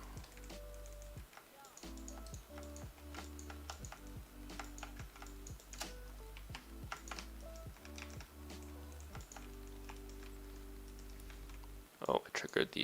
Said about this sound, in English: I'm just gonna keep clicking.